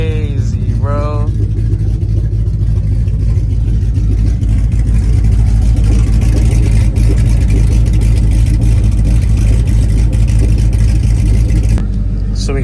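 A second-generation car's engine rumbles loudly and steadily, revving throughout with a deep low growl; a voice speaks briefly near the start.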